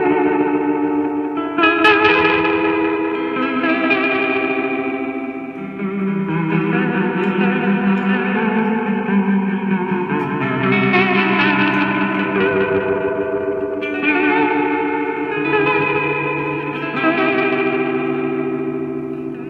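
Electric guitar through a TC Electronic Alter Ego V2 pedal set to short-delay vibrato, sustained chords and notes wobbling in pitch with a washy, echoing shimmer, loud and continuous.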